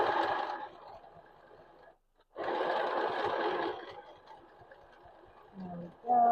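A mini sewing machine stitching in reverse, its motor whirring in two loud runs separated by a brief pause, then quieter mechanical clicks and a short low hum near the end.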